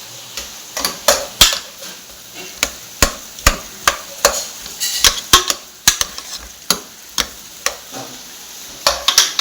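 Cooked tapioca (kappa) being mixed and stirred in a pot, with repeated sharp scraping and knocking strokes in an irregular rhythm, close and fairly loud, with no talking.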